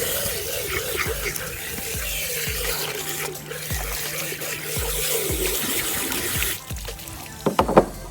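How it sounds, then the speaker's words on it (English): A garden hose runs water into the cavity of a freshly butchered chicken, a steady close splashing and trickling stream with low thumps beneath, ending in a few sharper knocks. "we're gonna go up with our hose and we're gonna rinse out that cavity"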